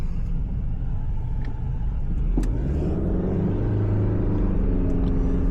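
A car engine is given extra gas to avoid stalling, a low steady rumble that swells into a rising rev midway, heard from inside the vehicle with no talk.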